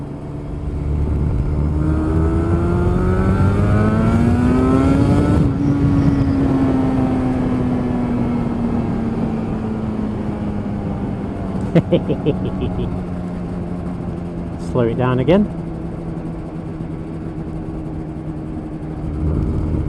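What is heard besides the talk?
Yamaha RD350 two-stroke motorcycle engine while riding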